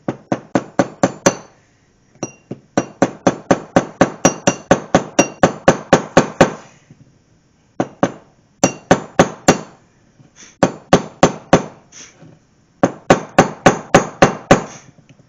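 Rapid metallic tapping as a small brass piece drives in the input shaft of a Mopar 833 four-speed gearbox, in steady bursts of sharp, ringing strikes with brief pauses between runs, close and loud with no voices.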